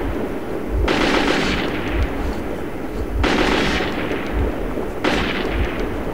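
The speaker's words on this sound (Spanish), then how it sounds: "Me disparan desde el otro lado." Loud gunfire in the video game Metro 2033, with three heavy bursts of shots rising over a constant rumbling battle din, roughly two seconds apart. No talking.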